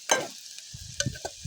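Eggs fry in a pan with a little oil, a soft sizzle broken by a few light scrapes and taps of a spatula, close and brief, with no voices.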